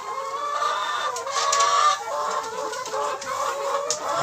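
Loud, steady chorus of hens clucking close by, with overlapping calls and a rooster-like rising cry, no voices.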